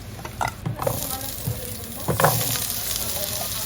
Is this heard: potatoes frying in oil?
yes